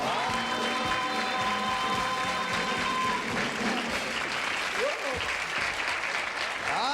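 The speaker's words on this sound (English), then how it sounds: "Let's play a game of musical chairs and give ourselves a round of applause." A 1975 CBS television game show studio audience applauds in a steady, loud wash of clapping while tonal music and brief voices sound underneath.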